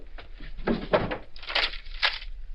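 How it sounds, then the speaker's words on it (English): A drawer being pulled open as a radio drama sound effect, heard as a short run of wooden knocks and scrapes followed by two sliding rasps, close and fairly loud with no talk. "Look in that drawer."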